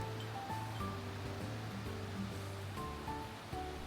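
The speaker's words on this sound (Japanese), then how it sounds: "さあ、橋の上から竜頭の滝を見てみましょ" Ryuzu Falls in Okunikko, Nikko, with water foaming white over rough black lava rock, gives a steady, dense rushing roar heard from a bridge above the falls, continuous and unbroken throughout.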